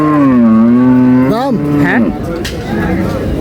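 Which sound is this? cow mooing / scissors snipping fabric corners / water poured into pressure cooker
cow mooing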